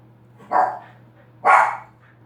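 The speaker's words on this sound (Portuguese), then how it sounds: "eu tive que dar uma pausa aqui porque meus cachorrinhos começaram a latir" Small dogs barking indoors: two distinct sharp barks about a second apart, loud and close, over a faint steady hum, with no talk.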